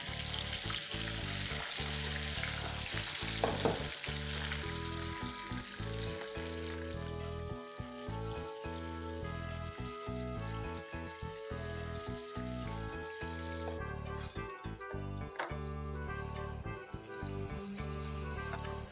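French fries coated in corn flour frying in hot oil, a dense, steady crackling sizzle that continues loud and close throughout with small bubbling pops and no talking.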